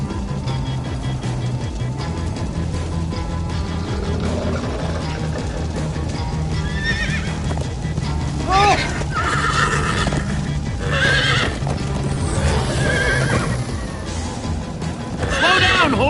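In the Minecraft Story Mode game, a horse neighs several times over a steady rumble of galloping hooves, the whinnies rising out of the continuous low drumming of movement.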